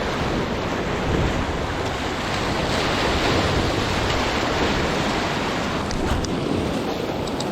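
Sea swell rolling onto a rocky reef, a continuous heavy wash of surf with wind buffeting the microphone, steady and close without any voices.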